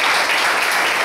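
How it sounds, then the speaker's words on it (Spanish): Church congregation applauding at a ministry's second anniversary service, a dense, loud, continuous burst of clapping with no talk over it. "denle un aplauso al Señor"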